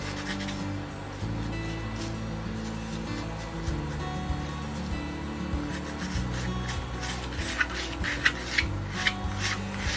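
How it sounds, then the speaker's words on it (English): Paint being scraped along a canvas in the manner of a Jolomo painting, a continuous close dry rubbing and rasping stroke, steady and alone, with a few light taps near the end. "Scrape it along."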